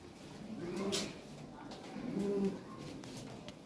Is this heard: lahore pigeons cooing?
yes